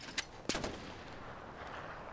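Gunfire in Far Cry 4, a few sharp shots cracking in quick succession near the start, then fading into low ambient noise.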